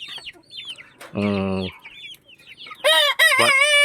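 Barred Plymouth Rock and Rhode Island Red chickens cluck in short bursts, then a rooster lets out a loud nearby crow, with further clucking and a second crow cutting in, with no voices.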